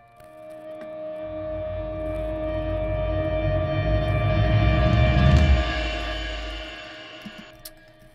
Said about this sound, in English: We have cymbal swells, we have a floor tom swell, and then we have two reverse guitar leads.